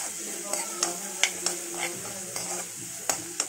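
Capsicum and onion frying in a pan for veg manchurian, a steady close hiss broken by sharp spatula scrapes and taps at irregular intervals.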